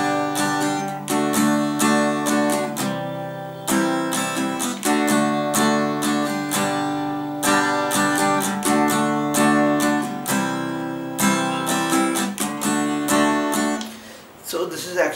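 An acoustic guitar plays a beginner strumming pattern with a scratch strum on the first beat, steady rhythmic chords ringing close and loud, alone with no voice over it.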